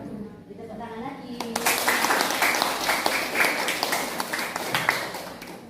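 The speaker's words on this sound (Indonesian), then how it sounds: "Tepuk tangan lagi." Classroom applause after a group presentation in a biology teaching session, a voice speaking over the start before a burst of dense clapping fills the room and holds steady to the end.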